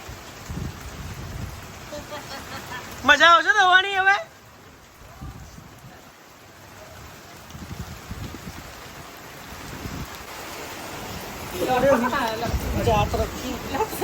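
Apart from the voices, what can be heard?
heavy rain falling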